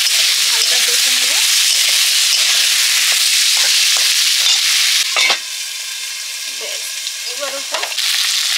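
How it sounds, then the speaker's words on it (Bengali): Vegetables sautéing in a hot pan make a continuous sizzle and frying hiss, with intermittent scraping and stirring clatters from a spatula, close and fairly loud, with no talking. "এবারে সবজিগুলো দিয়ে দিয়েছি, হালকা কষে নেব।"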